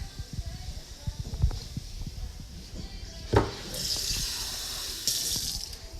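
Water splashes and trickles into a pan of taco meat with light clinks of utensils, and a steady pouring rush builds toward the end.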